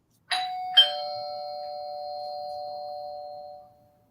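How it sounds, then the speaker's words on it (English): A doorbell chime sounds two bright tones in quick succession, a ding-dong whose ringing tail fades over about three seconds in an otherwise quiet indoor room. "Ring the doorbell, please. Ring the doorbell."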